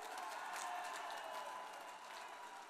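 Crowd applause at a political election campaign rally in Odisha, India, a continuous, fairly faint wash of clapping from a large distant audience, steady throughout with no voices on top.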